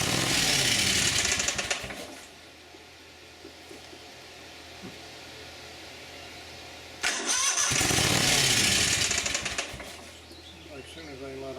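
A Yard Man lawn tractor engine cranks and fires with a half choke and a little throttle, roaring loudly for about two seconds, dropping to a low idle-like hum, then catching again in a second loud burst before easing back down.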